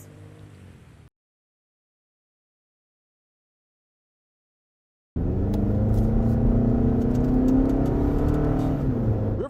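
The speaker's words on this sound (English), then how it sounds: "Riverside Drive is a 4-lane road with no street lights and a constant stream of dump trucks" Traffic and heavy dump trucks on four-lane Riverside Drive: a brief low vehicle rumble, then a few seconds of silence, then a loud, sustained roar of passing vehicles.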